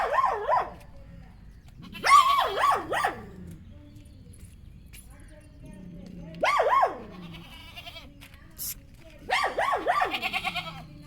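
A voice imitates a goat's wavering bleats and a dog's cries in several short bursts, loud and close, with pauses between calls and a repeated bleating trill at the end.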